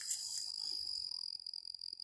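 A high, continuous insect trill rings out steadily, with faint softer chirps underneath in an otherwise quiet night.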